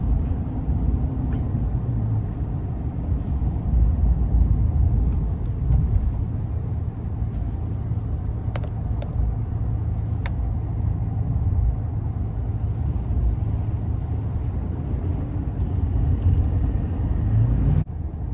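A 2021 GMC Sierra 2500HD Denali with the 6.6 Duramax diesel under light throttle, giving a steady deep engine rumble heard from inside the cab, even and continuous with a few faint clicks, no talking.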